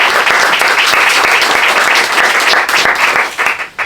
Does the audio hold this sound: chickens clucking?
no